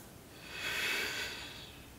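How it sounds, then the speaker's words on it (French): During a yoga session, a single slow breath swells and fades as a soft, close airy exhale over about a second. It is faint and heard alone. "Deux dernières respirations."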